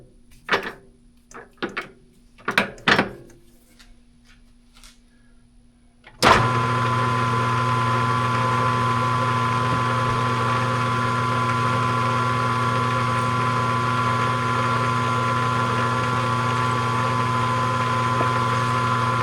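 Metal lathe starting up and running steadily while machining a custom thumb screw knob, a loud constant motor hum with a steady whine after a few light clicks and taps at the start.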